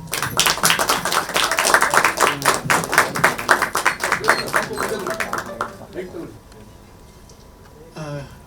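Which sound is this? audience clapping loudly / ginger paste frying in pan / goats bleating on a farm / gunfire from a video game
audience clapping loudly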